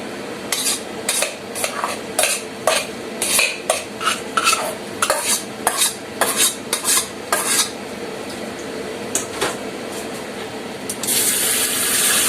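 Rice is rinsed in a pot under a hot running tap, with rhythmic bursts of swishing and stirring against the water, followed by a steadier rush of water at the end.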